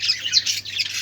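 An injured bird squawks in a rapid run of harsh, high-pitched calls, loud and close, with no voices and a faint low hum underneath.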